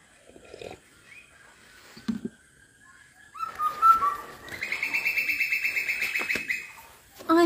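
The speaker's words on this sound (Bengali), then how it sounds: "কি পাখিতে ডাকে এত সুন্দর করে" A bird calls from near a rooftop, with a few scattered chirps first and then a clear run of rapid, evenly pulsed whistling notes, fairly close against a quiet background.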